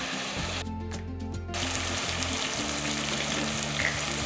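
Chopped tomatoes sauté in an oiled pan, a continuous close sizzle with a brief scrape of stirring early on, then a steadier, slightly louder frying hiss.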